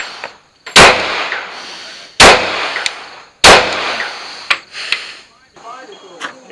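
Shotgun blasts at a competition stage ring out loud and close, three heavy shots spaced about a second apart followed by lighter clanks and action sounds, with a voice briefly heard.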